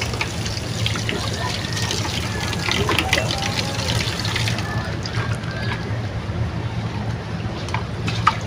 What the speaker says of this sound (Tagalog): Kailangan natin maghugas ng kinainan.